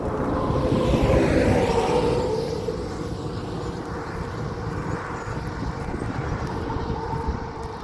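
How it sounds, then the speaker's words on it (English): A loud truck passes near a wet church parking lot, its roar swelling close within the first two seconds, then fading into a lingering rumble. "Loud truck"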